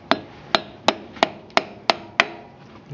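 Hammer tapping the inner races of a front wheel bearing on a Kawasaki Bayou 220 ATV, seven sharp metallic strikes at a steady rhythm about a third of a second apart, close and clear with no talk.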